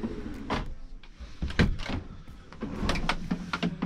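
A deep drawer in a Hymer Eriba Exciting 485 travel caravan slides and bumps several times, with rolling runner noise and sharp knocks, close and fairly loud in a quiet interior.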